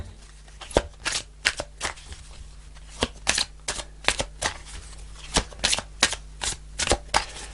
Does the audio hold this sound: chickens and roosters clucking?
no